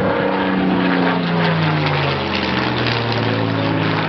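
A Supermarine Spitfire's V12 piston engine roars past on a low flyby, loud and continuous, its pitch sliding steadily downward as the aircraft passes.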